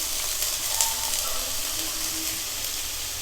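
Finely chopped onion drops into hot oil in a pan and gives a steady, dense sizzle with a bright crackling hiss that holds evenly throughout, close and fairly loud.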